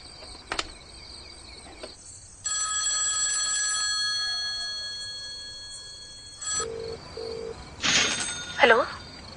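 A telephone rings after a number is dialed, with steady electronic tones through the middle. Short beeps and a warbling ring follow near the end, over a faint background hum.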